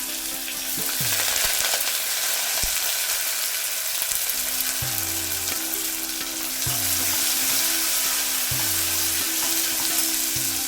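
Chopped onion goes into hot oil with spluttering mustard seeds and cumin for a simple field-bean palya, a steady close sizzle broken by repeated scraping stirs of a spoon against the pan, with no talking.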